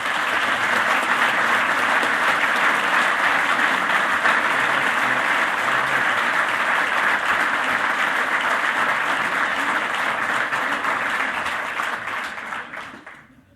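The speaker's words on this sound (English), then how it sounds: "How about another round of applause for our Valor Award recipients" Sustained loud applause from a dinner crowd honoring Valor Award recipients, steady dense clapping for around twelve seconds before it fades out at the end.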